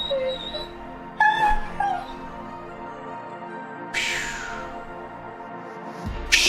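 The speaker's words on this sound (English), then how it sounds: "Sorry about the dog." A dog whimpers and yips nearby indoors: a thin high whine at the start, then sharp yelps around the middle and a brighter yip later, over a quiet steady room hum.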